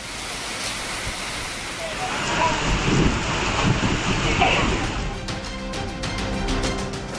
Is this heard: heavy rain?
yes